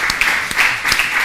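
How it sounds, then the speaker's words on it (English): Brief burst of audience clapping at a dance-related live event, moderately loud and continuous with a few sharper claps standing out, no talking over it. "Some clap, please."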